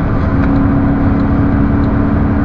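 A 2002 BMW M5 E39 engine drones loud and steady under acceleration, a dense continuous roar close by with no pause.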